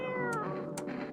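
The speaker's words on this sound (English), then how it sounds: "Pick up the cat." Cat meowing in the video game No, I'm Not a Human: a single drawn-out, tonal meow that glides downward, close and clear, with faint background ambience and no talk.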